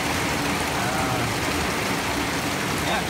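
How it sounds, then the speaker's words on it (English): Steady, dense rain hammering a tin roof on a hot, humid day, a constant loud broadband patter with no pauses. "now it's raining, and it's almost bearable, aside from the incredible noise. I do have a tin roof."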